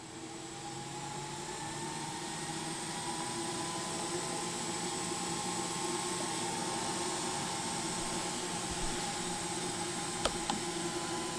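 A QUICK 861 PRO hot-air station blows at airflow 120 while heating toward 350 degrees Celsius, a steady close whooshing hiss with a faint whine, continuous, ending in a couple of small clicks and no speech.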